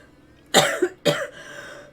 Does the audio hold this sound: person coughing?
yes